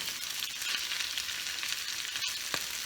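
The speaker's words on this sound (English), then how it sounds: "I'm just going to let this spinach cook down and get" Spinach wilting in a pan for Mediterranean stuffed salmon gives off a steady, faint hiss and crackle, with one sharp clink toward the end and no voices.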